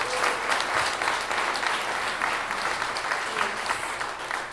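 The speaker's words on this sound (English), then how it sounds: "give her a big round of applause" Steady applause from an audience, dense clapping held at an even level for several seconds with no voices standing out.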